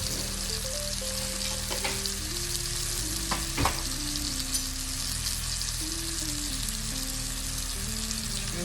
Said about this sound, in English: we're just gonna sear this up, and then we're gonna pop it in the oven